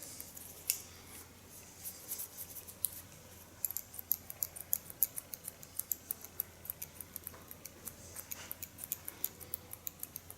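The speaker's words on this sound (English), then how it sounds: "jumping the hairs up with my scissor and slice cut the length" Scissors slice-cutting the length of a freehand pixie haircut produce faint, rapid snipping clicks that quicken into a steady, close rhythm, with no talking over them.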